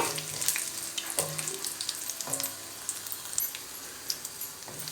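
Homemade hair-oil ingredients fry in a pan of oil with a close, crackling sizzle, punctuated by repeated stirring clinks and scrapes.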